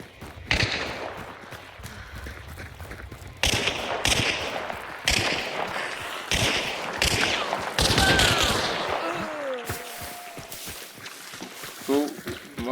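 Bursts of gunfire in the video game Hunt: Showdown crack in quick succession, with voices talking over the shooting and game sounds in between.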